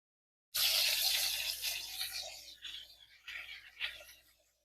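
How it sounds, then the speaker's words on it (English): Cold tap water runs over vegetables being rinsed for sweet pickle relish, a close splashing rush that starts suddenly and then breaks into uneven bursts as the vegetables are moved under the stream. "Let me get some cold water here. And you just want to kind of rinse this off, okay?"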